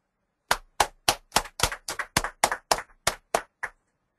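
About thirteen sharp, evenly spaced claps ring out close and clear, like one pair of hands giving a round of applause.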